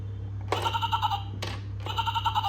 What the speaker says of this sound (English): Can you guess? It's a sheep.